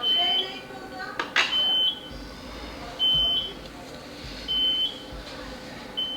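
A high electronic alarm beeps in a repeating pattern of about five evenly spaced short tones, moderately loud, with voices talking in the background.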